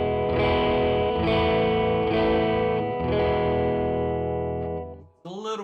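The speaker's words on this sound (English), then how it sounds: "A little bit of distortion there, but not heaps" An electric guitar runs through a Fender pedal set to low gain with light distortion, playing sustained chords that ring loud and full for about five seconds before a brief dip and a new attack.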